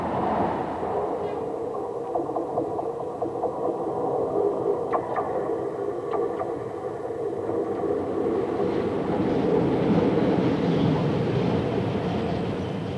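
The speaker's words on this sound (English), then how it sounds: "As the train approaches the city centre, the metro goes underground, travelling through a new tunnel serving 7 stations." A Tyne and Wear Metro train running toward Newcastle city centre, where the line enters a new underground tunnel; a steady rumbling, rolling roar of the carriages fills the clip and swells slightly louder near the end.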